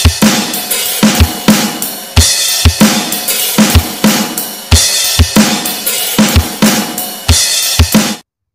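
A full drum kit beat from a song's chorus section played four times through at standard tempo, with punchy kick and snare hits under a steady cymbal wash, loud and continuous until it stops abruptly.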